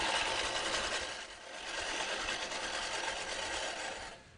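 Manual reel push mower cutting grass, a steady whirring, clicking blade rattle that runs on close by for several seconds with a brief dip partway through, no voices.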